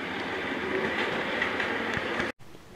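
Train running on rails, a steady close rumbling roar of wheels and carriages with faint clickety-clack that continues without a break, then cuts off abruptly near the end before a quieter hum resumes.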